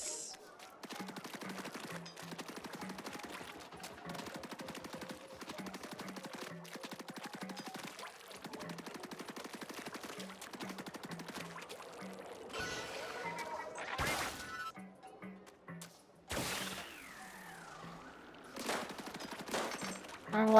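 Ink weapons shooting in Splatoon, rapid repeated firing bursts across the whole stretch, fairly quiet, mixed with splats, game effects and occasional louder crashes.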